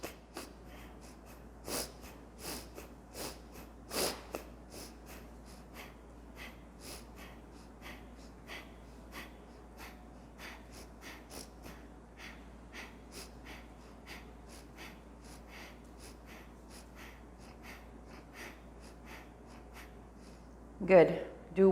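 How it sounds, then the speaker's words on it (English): Short, quick yoga breaths, inhaling and exhaling in a rapid series of soft, close puffs through the nose, steady and repeated, ending with a couple of louder breaths. "Inhaling short, exhaling short."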